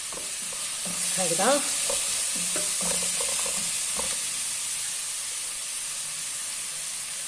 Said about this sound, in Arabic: انا نحب نقلي البصل، لازم نقلي البصل مليح